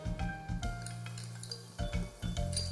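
Finely chopped onions frying in a pot, a soft sizzle broken by clinks and scraping stirs in short irregular bursts, fairly quiet, with no talking.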